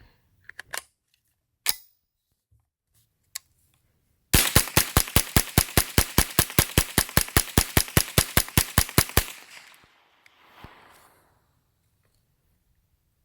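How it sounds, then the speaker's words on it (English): Smith & Wesson M&P 15-22 .22 rifle emptying a 25-round magazine as fast as possible: a steady, loud string of sharp cracks lasting about five seconds, preceded by a few isolated clicks and followed by quiet. "I'm just going to fire it as fast as it can go,"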